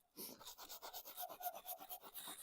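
A Scotch-Brite pad scrubs across the head gasket surface of an MG TF engine cylinder head in a quick, steady run of rasping strokes, close and fairly loud with no talking.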